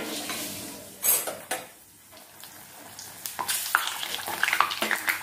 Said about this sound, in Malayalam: ഇതിനകത്തേക്ക് നമ്മൾ ആദ്യം ഈ ഉണക്കമുളക് ഇട്ട് കൊടുക്കുന്നു